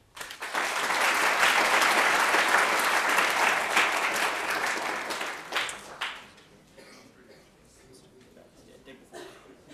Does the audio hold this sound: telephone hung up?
no